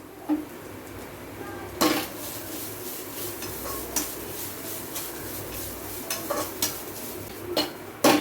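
Grated coconut roasting in oil in a kadai for Kumbakonam sambar powder, with a steady low frying hiss and occasional sharp scrapes and clinks of a spatula against the metal pan.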